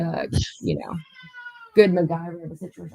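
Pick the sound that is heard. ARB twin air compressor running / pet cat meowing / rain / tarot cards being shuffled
pet cat meowing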